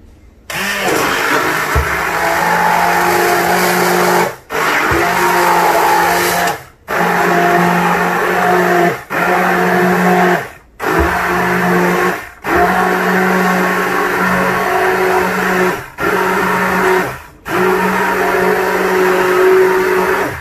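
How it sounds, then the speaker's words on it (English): A blender grinds ingredients for Pulicha Keerai Kadayal, a sour spinach curry, in loud, steady bursts of several seconds each, separated by brief pauses, with no talking. "now let's blend all the ingredients for the Pulicha Keerai Kadayal"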